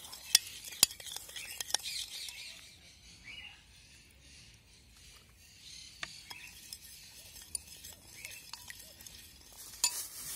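A spoon stirring an oil dressing with Italian herbs and salt in a bowl, quiet scraping and swishing with sharp clinks of utensil against dish scattered throughout, close and without talk.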